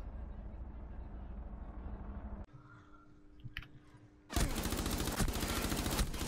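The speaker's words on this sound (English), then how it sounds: "I shot him like 15 times, still didn't die." Rainbow Six Siege gunfire: a stretch of muffled noise, a quiet gap with a few clicks, then a sudden loud, dense burst of rapid shots that keeps going to the end, with players talking around it.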